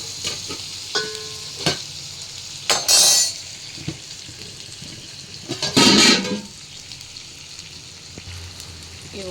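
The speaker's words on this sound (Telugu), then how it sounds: "బాయిల్ అవుతున్నాయండి వాటర్." Water heats in a pot for biryani, a low steady bubbling hiss broken by clanks of cookware and a couple of louder rushing bursts.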